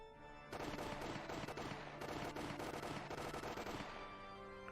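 Automatic weapons fire in a dense, rapid burst lasting a few seconds in the Higurashi When They Cry visual novel game. The volley is loud and continuous, then stops abruptly.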